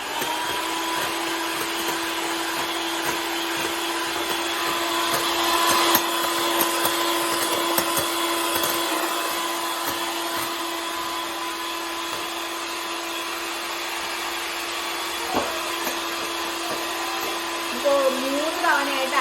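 Electric hand beater whipping butter and powdered sugar for a butterscotch cake batter, a steady continuous motor whir with a constant hum throughout, near and fairly loud, with a few small clinks toward the end.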